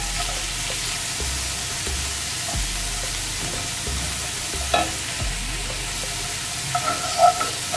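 Vegetables seasoned with garlic powder, all-purpose seasoning and black pepper fry steadily in a pan for vegan ackee tacos, a constant sizzle with occasional stirring knocks and a few louder scrapes near the end.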